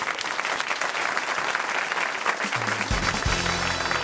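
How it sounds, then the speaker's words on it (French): A studio audience at a French comedy game show breaks into loud, sustained applause that fills the whole stretch, with a brief musical tone creeping in near the end. "On vous applaudit, Stéphanie."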